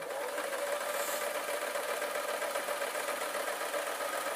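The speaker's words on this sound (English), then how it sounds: "the reason I try to sew without stopping the machine is you're less likely to have a problem." Domestic sewing machine stitching a cushion seam in one continuous run, a steady mechanical whirr and rapid needle chatter holding an even level throughout with no pauses or voices.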